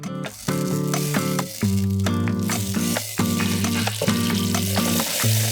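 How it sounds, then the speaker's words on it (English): Butter melting and sizzling in a saucepan over medium-high heat makes a constant hiss that runs under loud, rhythmic background music. "place a saucepan on the stovetop over medium-high heat and melt the butter in it"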